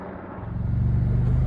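A low, rhythmic thudding of helicopter rotor blades, lifting cell tower antennas, grows steadily louder over a second and a half, a pulsing drone close by.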